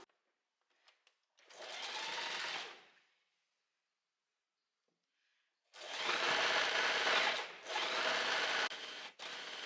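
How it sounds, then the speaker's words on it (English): A sewing machine stitches fabric dress straps for a wrap dress in two bursts: a short run of about a second and a half, a pause, then a longer whirring run broken by a brief stop, close and fairly quiet. "sew with a 1 centimeter seam allowance away from the folded edge here"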